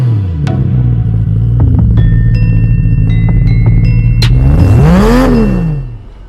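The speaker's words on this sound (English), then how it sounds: "Man, this car is so much fun to drive." A BMW M Roadster with the S54 engine accelerates while driven, a loud steady engine drone rising into a sweeping rev before easing off, with brief clicks and clatter over it.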